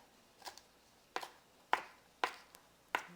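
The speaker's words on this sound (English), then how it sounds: "I love green onions on my mashed potatoes, so I'm going to go ahead and chop some of these up" Green onions being chopped with a knife on a cutting board, about five separate crisp cuts at an uneven pace, close and fairly quiet, with no talking.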